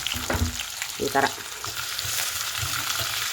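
Capsicum, tomato and ginger-garlic paste sizzle steadily in hot tempering oil for kharabath, with a couple of louder stirring scrapes near the start and a brief spoken remark.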